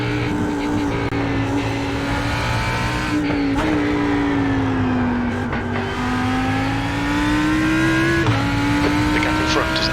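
A GT3 race car engine in iRacing roars steadily at high revs on the Nurburgring GP circuit, its pitch rising and dipping through gear changes and corners, loud and continuous throughout.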